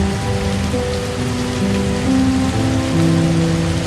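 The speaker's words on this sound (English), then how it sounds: "The giant monstera leaves are trembling under the weight of the downpour" Heavy rain pouring onto giant monstera leaves in a Costa Rican rainforest at night, a loud continuous hiss of drops with a low rumbling drone beneath, steady and close throughout.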